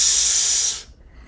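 A voice imitates a train's steam hiss, loud, sustained, bright and airy, holding for under a second and then cutting off into near silence.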